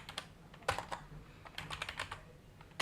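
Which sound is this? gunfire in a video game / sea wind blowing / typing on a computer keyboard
typing on a computer keyboard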